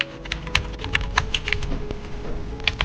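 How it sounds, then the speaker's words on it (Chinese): Quick, irregular clatter of keys on a computer keyboard, close and fairly clear, with short bursts of taps and small pauses and no voices over it. "我好像看见小金毛打字了"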